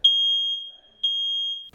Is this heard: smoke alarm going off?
yes